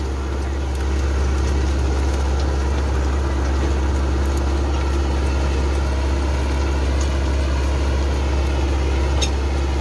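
A Massey Ferguson 385 4x4 tractor engine idles with a steady, loud low-pitched drone and even throb throughout, while someone talks over it.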